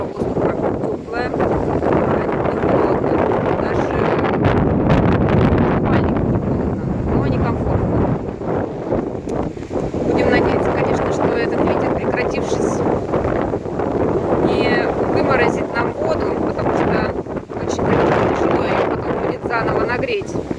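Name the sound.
wind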